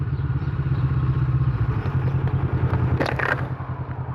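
A Kawasaki Vulcan motorcycle's engine rumbles with a deep, steady throb on a country road, heard close with wind noise and a brief clatter near the end.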